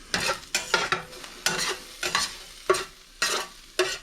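Sausage meat is stirred and broken up in a hot pan for stuffed peppers, a series of about eight close, scraping stirs over a soft sizzle, evenly spaced and fairly quiet.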